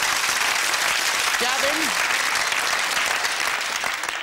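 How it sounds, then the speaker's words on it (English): A game-show studio audience breaks into a sustained round of applause, broad and even throughout, while a presenter's voice briefly calls a contestant's name over it. "Round of applause there"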